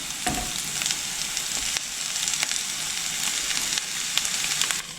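Onions and mushrooms sizzle loudly in a hot pan, a steady crackling hiss with occasional stirring scrapes and pops.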